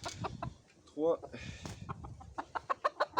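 Pekin bantam roosters clucking while young chicks are being moved, a run of short sharp calls growing louder toward the end, with someone talking nearby over the birds.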